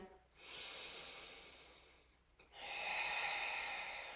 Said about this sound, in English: let's find that longer exhale, then inhale again